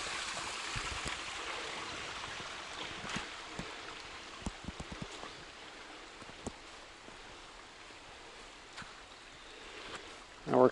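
Creek water flows steadily in a continuous outdoor wash with small splashes and trickles, near and fairly quiet, with a faint rustle at the end.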